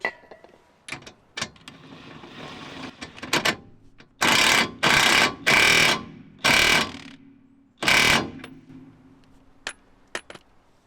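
An impact wrench fires in several loud, rattling bursts of about half a second each while tightening a 32mm suspension nut on a car, separated by pauses and scattered metallic clicks.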